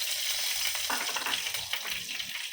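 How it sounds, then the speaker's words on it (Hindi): Black pepper and cardamom sizzle in hot ghee for khichdi, a steady, dense frying hiss with occasional crackles and faint stirring scrapes, close and continuous, with no talking. "अभी देखो ये काली मिर्च और ये इलायची डालेंगे।"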